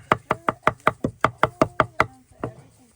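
A handmade knife chops cilantro and garlic for chimichurri on a board: about ten quick, evenly spaced close knocks, a short pause, then one more stroke.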